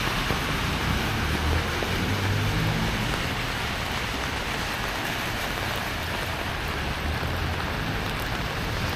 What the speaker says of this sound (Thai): today a lot of rain in the morning